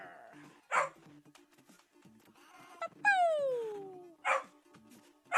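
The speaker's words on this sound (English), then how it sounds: "my dog is like having a barking fit" Buster the dog barks repeatedly at close range, loud sharp barks spaced a second or so apart, alongside a higher drawn-out yelp or whine and game sounds beneath.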